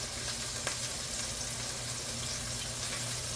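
Onions sizzle in a hot pan alongside burgers, a dense, continuous crackling hiss with a low steady hum underneath and one brief sharp pop.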